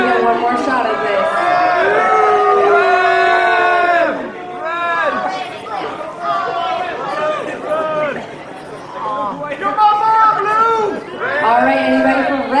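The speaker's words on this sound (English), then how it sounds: "come on, everybody, pick a color and cheer for your color" Crowd at a color-team event cheering and shouting for their chosen color, loud sustained voices with rising and falling whoops across several bursts.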